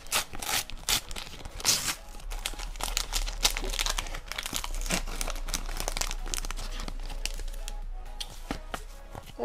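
A Panini sticker packet from a Comme des Bêtes collection is torn and opened by hand, giving close, busy crinkling and crackling of foil wrapper with sharp tearing bursts throughout.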